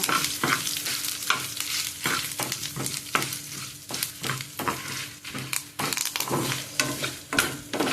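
Cowpea seeds and asafoetida fry in a pan with a crackling sizzle, broken by repeated scraping and clattering from a stirring spoon in a quick, uneven rhythm, close up with no speech.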